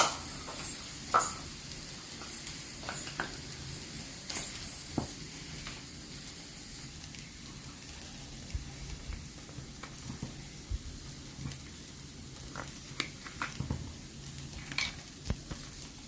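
Okra fry with garam masala stirred in a pan: a continuous sizzle broken by frequent scraping and clinking strokes of the spoon against the pan, close by and with no talking.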